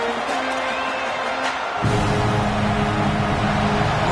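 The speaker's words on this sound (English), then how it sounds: "Listen to this crowd just shaking the girders of this place trying to help their defense." Stadium crowd at a college football game roaring as a dense, sustained wall of noise that swells louder midway, heard from within the stands.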